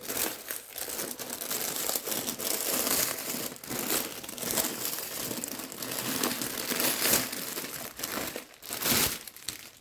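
Glittery gift wrapping paper from St. Nicholas Day presents crinkles and crumples almost continuously, with brief tearing bursts, close and fairly loud throughout.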